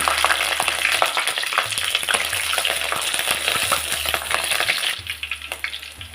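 Mustard seeds and green chilies fry in coconut oil in a clay pot, a dense steady sizzle full of sharp popping crackles, with a few low knocks and a brief drop in intensity near the end.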